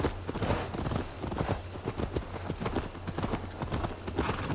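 Horse hooves clip-clop in quick, steady rhythm in the Assassin's Creed Valhalla video game, a continuous near trot with a faint low hum beneath and no talk over it.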